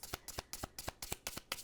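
Tarot cards are shuffled by hand in quick, crisp bursts, about seven sharp riffling strokes in a steady rhythm, close and clear with no talk.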